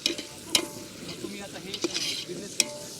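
Ingredients for chicken dum biryani sauté in a pan with a soft, steady sizzle. Sharp clinks from stirring break through now and then, heard close but fairly quiet.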